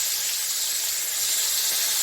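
Eggplant pieces frying in hot oil on high heat, giving a steady, close, bright sizzling hiss with no breaks and no talk.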